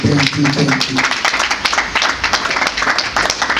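A press conference audience applauds with dense, steady clapping, loud and close, while a voice briefly speaks at the start.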